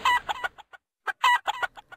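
A chicken in the video game Palworld clucking in short bursts, two clustered runs of sharp clucks separated by a brief pause, clear and alone.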